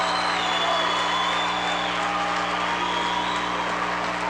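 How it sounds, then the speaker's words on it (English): During a late timeout at a boys' high school basketball game in Minneapolis, a dense indoor crowd cheers and claps in a steady, loud roar. "Listen to the crowd."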